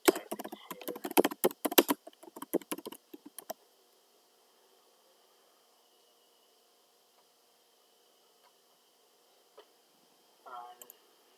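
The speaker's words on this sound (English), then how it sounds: "Let me type it here." Quick bursts of clicking keystrokes on a computer keyboard for about three seconds, then near silence with a couple of faint later taps and a brief rustle.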